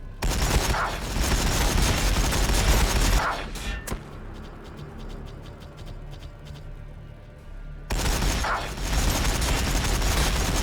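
Massed gunfire in a Warhammer 40,000 battle against Orks, loud, continuous volleys that drop out briefly into a quieter stretch of scattered single shots and mechanical clatter before the heavy barrage resumes.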